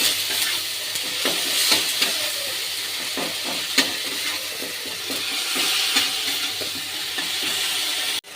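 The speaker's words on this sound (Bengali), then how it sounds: "এর মধ্যে আদা রসুন, কাঁচা পেঁয়াজ সব পেস্ট করা আছে, আমি অল্প করে দিয়ে দেব। দিয়ে একটু ভালো করে কষে নেব।" Ginger, garlic and raw onion paste sizzles and fries in a pan while a spoon scrapes and stirs it in repeated strokes, the hissing steady and close throughout.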